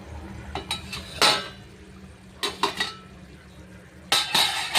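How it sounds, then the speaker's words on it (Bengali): A metal lid clanks and rattles as it is lifted off a cooking pot of chhana bharta with green chilli, chilli powder, turmeric and oil, giving several sharp nearby clinks in bursts between quiet pauses. "কীরকম আমিও জানি না, ঢাকাটা খুলে দিচ্ছে"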